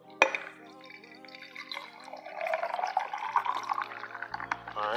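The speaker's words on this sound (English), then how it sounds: "I'm gonna pour." A shaken cocktail is poured from a shaker into a glass, a bright liquid trickle with a clink at the start, steady and close, building slightly toward the end.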